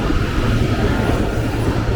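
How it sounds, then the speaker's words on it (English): A double-stacked IC3 train pulls into Munich Central Station with a loud, steady rumble of wheels and motors close by. "the IC3, this time, as mentioned, double-stacked, pulling into Munich Central Station"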